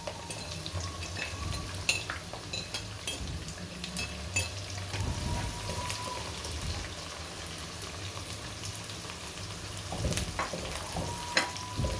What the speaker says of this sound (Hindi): इसी ऑयल में ये प्याज हम फ्राई कर लेंगे।